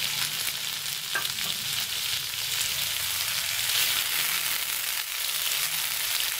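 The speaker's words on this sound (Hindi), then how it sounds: "अब इसके अंदर टमाटर ऐड कर देंगे।" Chopped tomatoes sizzling with softened onions in a pan for a pumpkin curry, a steady close frying hiss with faint stirring scrapes running throughout, no voices.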